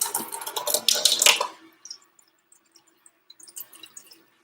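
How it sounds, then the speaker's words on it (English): Water pours into a soup pot of chicken noodle soup in a splashing, gurgling rush for about a second and a half, close and fairly loud, then stops, leaving scattered faint drips and small clinks. "I gotta put some more water in here."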